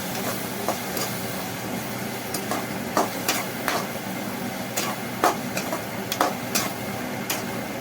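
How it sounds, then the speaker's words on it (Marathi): Noodles seasoned with soy sauce are stirred in a pan, giving a steady scraping and sizzling bed broken by sharp, irregular clacks of the utensil against the pan, close and loud with no talking. "आणि आता मिक्स करून घेते।"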